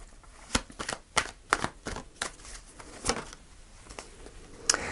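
Tarot cards shuffled by hand: a run of quick papery riffles and flicks, close and moderately loud, with short pauses between bursts and no talking.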